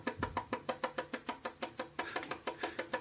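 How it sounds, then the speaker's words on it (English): Rapid, even tapping on a car's passenger door, about five knocks per second, sustained for three seconds, soft and close against a low background hum. "What's that tapping sound?"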